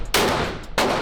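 Two loud gunshots at a shooting range, a sharp blast near the start and another about half a second later, each leaving a long ringing decay close by with no talk.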